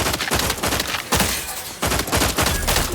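Sustained volleys of gunfire in the video game The Outer Worlds 2, loud and dense with rapid overlapping shots, a brief lull in the middle before the barrage resumes.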